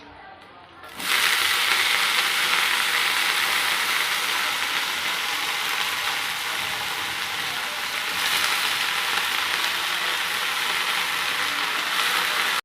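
Mooli (radish) greens dropped into hot oil with browned garlic and softened onion, a loud sudden sizzle that starts after a brief quiet moment and holds as a steady, dense hiss throughout.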